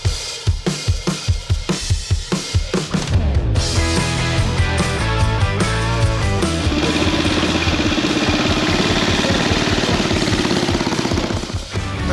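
Several motorcycle engines rumble and idle steadily near the starting line of the KOP Hillclimb in England, with a few throttle blips early on, loud and close, running continuously with no voices.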